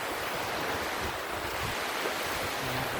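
Sea waves wash steadily onto the shore at Atinunan, a continuous broad rushing surf mixed with wind buffeting the microphone, with no talking.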